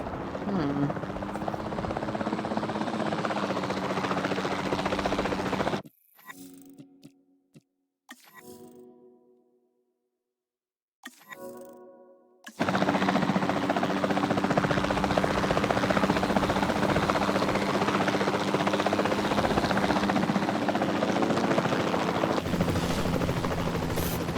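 A capture-team helicopter in the video game Jurassic World Evolution 2 drones steadily with a low rotor thrum, dropping out briefly in the middle before returning loud and continuous to the end.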